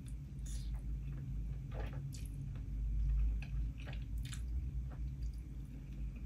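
Someone eats ramen topped with egg, cheese and bacon, with close, soft wet chewing and slurping over a steady low hum and no talk.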